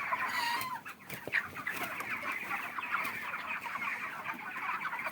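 Large broiler chickens near the end of their 40-day life cluck steadily in a poultry farm, many birds overlapping in a constant close chorus with no talk.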